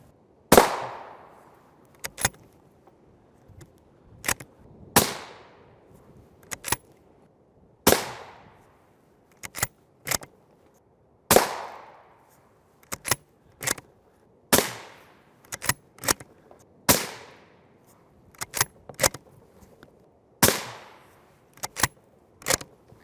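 Rifle rounds, M855 among them, fired at a Tacticon Armament NIJ Level IV steel armor plate: about twenty sharp cracks in irregular groups, each a loud impact with a short ringing tail, no talking.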